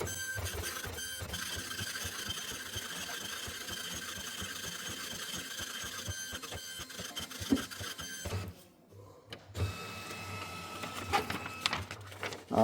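An 80-column dot matrix printer runs off a report, a dense buzzing rattle of print head strokes with steady mechanical chatter, pausing briefly before resuming with line feeds and clicks, close and continuous.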